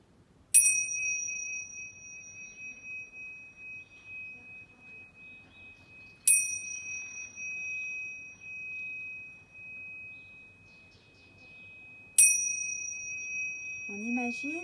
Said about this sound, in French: J'ai à nouveau les cloches.